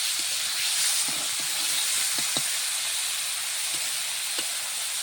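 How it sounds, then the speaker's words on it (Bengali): Fish frying in a pan gives a steady, close sizzling hiss, with a few faint pops and crackles scattered through it and no talk. "সুন্দরভাবে মাছগুলোকে ভেজে নেব।"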